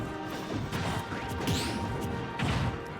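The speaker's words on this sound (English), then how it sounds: "Ooh, big parry on that neutral air." Super Smash Bros. Ultimate match between Wolf and Bowser Jr. throws out sharp, punchy hit impacts and crashes with whooshing swipes, several blows landing in quick succession over game music.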